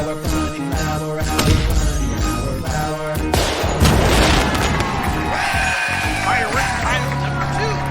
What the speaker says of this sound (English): Fireworks pile number 1.